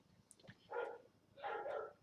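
A dog barks twice indoors, two short, fairly quiet woofs spaced about half a second apart with a small yip just before.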